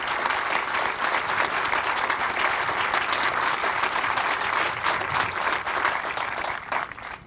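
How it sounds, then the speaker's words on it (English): An audience at a military training instructor graduation ceremony breaks into loud, sustained applause. The dense clapping carries on for several seconds and tapers slightly at the end. "how about a round of applause for the newest military training instructors?"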